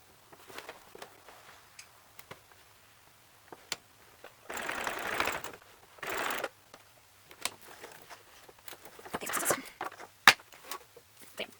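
A sewing machine stitches across a book bag strap in short bursts of rapid whirring, separated by pauses filled with light clicks and handling of fabric.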